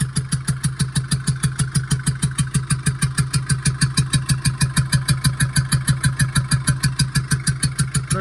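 A Tata Sumo Victa engine with a bent exhaust valve idles with a misfire, giving a loud, close, rhythmic chuffing knock that pulses rapidly and evenly for several seconds, with no talk over it.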